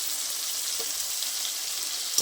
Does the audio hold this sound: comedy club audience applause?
no